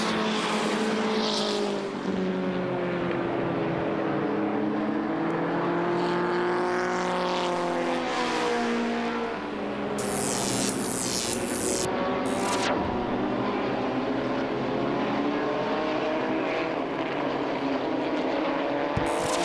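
Outlaw mini stock race cars roar around Lee USA Speedway, their engines whining loudly and continuously as the pack passes, with pitch swooping up and down as cars go by.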